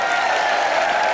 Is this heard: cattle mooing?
no